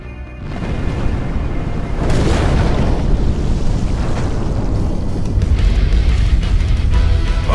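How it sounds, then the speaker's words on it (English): A massive explosion in the video game The TakeOver, a loud sustained roaring blast with rumbling debris that builds and stays dense for several seconds, with no voices over it. "I know enough about explosions to recognize one!"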